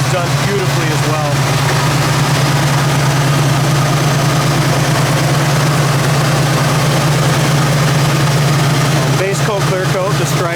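A car engine idles on choke in cold weather, a steady low droning hum throughout, close by, while a person talks over it.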